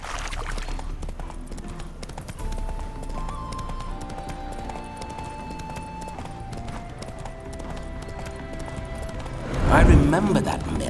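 Horse hooves clip-clop steadily with occasional snorting from Roach, Geralt's horse in The Witcher 3, under ongoing spoken dialogue and a soft music bed, swelling into a louder burst near the end.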